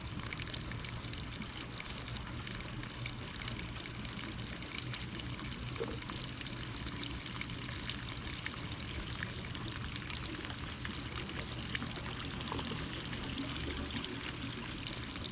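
Water pours and trickles steadily into a vegetable garden bed, a faint continuous flow without talk throughout.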